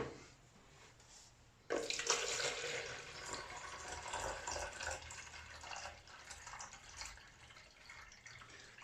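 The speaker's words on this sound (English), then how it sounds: "I'm going to measure out 500 milliliters into the jug here" Distilled water poured into a measuring jug, about 500 ml: a steady, close splashing stream that starts abruptly and runs on, slowly tapering in level.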